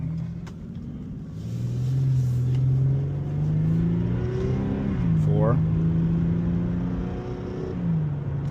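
An Infiniti G37 accelerating in sport mode, its engine droning and rising in pitch, then a quick drop and climb again as a gear shifts, heard steadily from inside the car.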